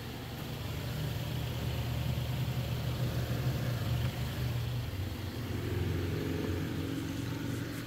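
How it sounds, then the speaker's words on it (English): Traffic passing outside mixes with the steady whoosh of a 12-inch Lasko fan on high, a continuous low rumble of cars swelling and fading gently with no talk over it. "And of course there's cars going by."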